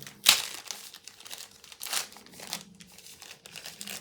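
Packaging rustling and crinkling while an Insta360 X4 camera is unboxed, with one sharp crinkle at the start and softer intermittent rustles after it, close and quiet.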